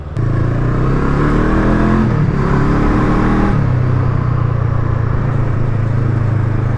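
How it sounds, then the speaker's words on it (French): A Brixton Crossfire 500 motorcycle accelerates onto an expressway, its exhaust giving a steady, fairly loud drone that rises in pitch through a gear change, with little mechanical engine noise. "C'est pas la mécanique qu'on entend, c'est vraiment l'échappement des gaz à l'arrière."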